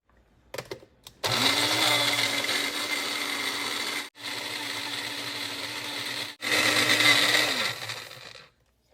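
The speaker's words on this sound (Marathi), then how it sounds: "आणि आपण ही मिक्सरला वाटून घेऊया" A kitchen mixer grinder blends tomato chutney with lemon juice, salt and a little water, giving a loud, steady whirring roar in three bursts split by two brief stops, with no talking.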